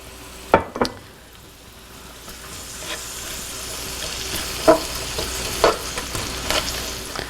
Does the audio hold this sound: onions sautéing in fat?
yes